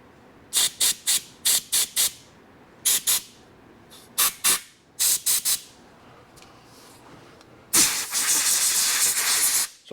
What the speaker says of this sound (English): They're knocking a little bit of stuff out of the hole before I tap.